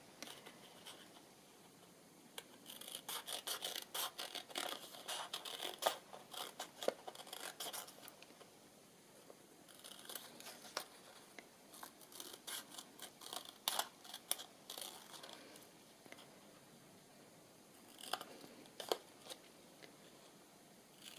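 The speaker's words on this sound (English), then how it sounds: "Hold it there and I should be alright to cut round the rest." Scissors snip around the edge of a paper book page in clusters of quick, crisp cuts separated by short pauses, close and quiet, with no speech.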